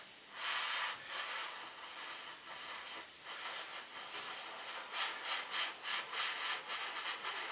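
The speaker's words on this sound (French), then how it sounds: "Allez, c'est parti pour la peinture." Spray paint is applied in light coats to a 1/24 Tamiya Nissan 370Z model kit, producing repeated hissing bursts of varying length, close but fairly quiet, without any speech.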